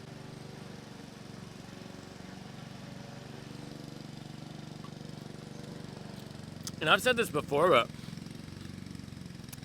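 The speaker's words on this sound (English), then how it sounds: "my neighbor he's got the lawnmower going" A neighbor's lawn mower drones steadily at a distance beneath someone talking close by, its low engine hum running throughout the scene.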